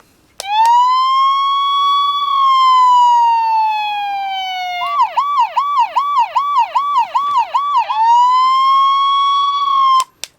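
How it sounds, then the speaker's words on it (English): Electronic siren from a Playmobil City Life toy ambulance, a long rising-and-falling wail, then a rapid yelping warble, then the slow wail again, loud, close and tinny, with no talking. "And the other button is a siren."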